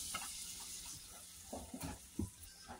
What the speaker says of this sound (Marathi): इथे मला ब्रेड असं मस्त क्रंची करून घ्यायचे तसे। त्याच्यात बटर टाकले मी थोडंसं।